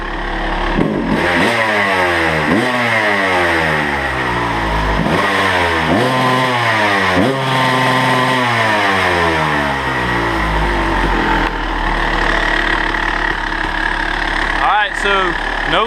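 Kawasaki KX250 dirt bike engine, just rebuilt with a new side cover and water pump seal, fires up and runs loud and close, its pitch rising and falling through repeated revs before settling near the end.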